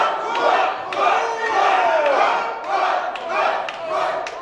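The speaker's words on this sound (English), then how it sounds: "The crowd really trying to will Rook on." A wrestling crowd at a live event cheers and yells continuously, urging on a downed wrestler, a loud sustained roar with swelling waves of shouting.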